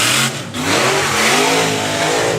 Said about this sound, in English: Does a shortened burnout though